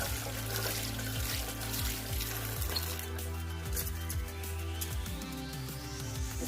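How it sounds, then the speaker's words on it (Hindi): Water is poured over drained pasta, a steady splashing trickle mixed with a faint sizzle-like hiss that runs continuously at close range, with no voices. "अब इस पर थोड़ा सा हम पानी डालेंगे"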